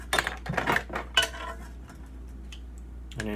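A metal spoon clinks and scrapes against a dish during measuring, with several bright close taps in the first second and a later softer clink over a faint steady hum.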